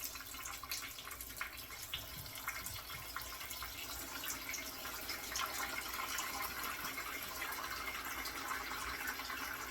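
Water draining out of a motor being torn down in a workshop, a steady splashing trickle running the full length at moderate loudness with no talk over it.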